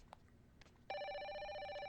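Telephone ringing in the horror game Project Zero 5, a sudden electronic ring tone that starts after a quiet moment and holds steady, loud and clear, with no talk.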